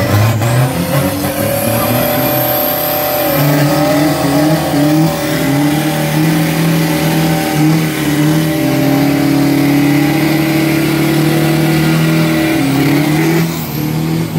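Standard 1.9-litre pickup engine revving hard during a street drag battle round, a loud sustained roar with rising and falling pitch held steadily for the whole stretch.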